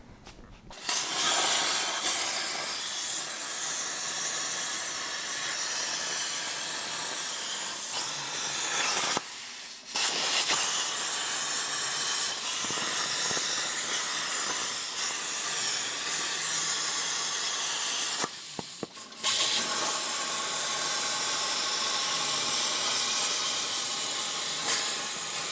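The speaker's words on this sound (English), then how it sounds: "Let's go to the table. We'll cut some steel." A plasma cutter on a cutting table hisses steadily as it cuts steel gussets, a loud, continuous rushing hiss that stops briefly twice before resuming, with no talking.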